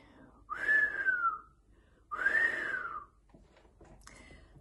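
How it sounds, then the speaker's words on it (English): A person whistles two long, falling notes, each about a second, with a weak, breathy third attempt at the end; close and quiet with no talking. "Now, I couldn't whistle to save my life, and I'm going to give you all a little demonstration."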